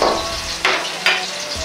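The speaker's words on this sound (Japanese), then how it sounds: "大体二度揚げの開始から30秒ぐらいしたら油を切ります" Steady crackling sizzle of pork deep frying in hot oil over high heat during the second fry, close up, with a couple of brief louder bursts as pieces shift.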